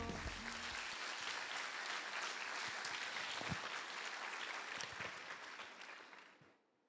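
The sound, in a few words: congregation applauding in church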